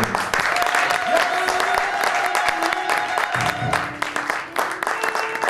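A church congregation applauds and cheers for Jesus during a prayer and deliverance service in Canada, loud and continuous clapping with voices mixed in, easing somewhat toward the end.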